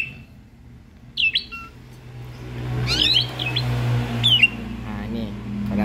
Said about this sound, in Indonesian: selalu pakai suara murai seperti ini